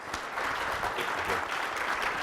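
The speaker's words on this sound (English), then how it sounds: "How about a big round of applause for our panelists?" Brief, steady applause from a conference audience for panelists at an industry session, a dense wash of clapping with no voices over it.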